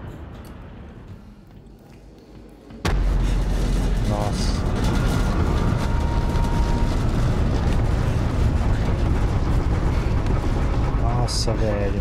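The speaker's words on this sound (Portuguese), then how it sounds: "Explosões, tremores." Explosions and tremors in the video game Still Wakes the Deep: a sudden, loud rumbling roar bursts in after a quieter stretch and then churns on steadily, deep and heavy, as a structure collapses.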